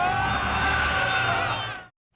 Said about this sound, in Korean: 주변에선 환호성이 터집니다